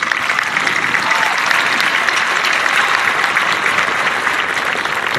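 A graduation crowd at a high school ceremony applauds teachers and staff, with dense, steady clapping from many hands filling the space throughout, loud and continuous without a break.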